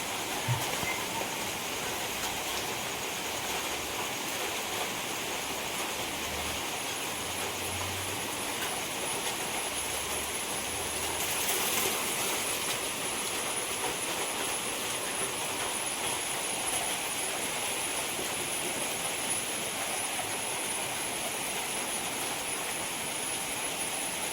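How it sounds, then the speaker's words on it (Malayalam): Heavy rain pours down steadily in a dense, unbroken roar that stays loud and even throughout, with no voices over it. "രാവിലെ തുടങ്ങിയ മഴയാണ് കേട്ടോ"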